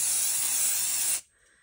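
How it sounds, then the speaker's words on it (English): An aerosol spray can hisses in a strong, close, continuous burst onto a fabric pouch for just over a second, then cuts off abruptly into quiet. "So I'm just going to spray there."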